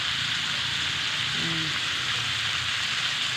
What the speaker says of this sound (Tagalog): nagprito kog nokos